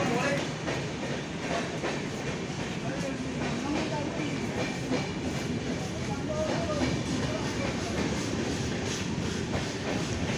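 A train passes through a railway station with a continuous rolling rumble and rhythmic clatter of wagons over the rails, fairly close and steady, with some faint voices in the background.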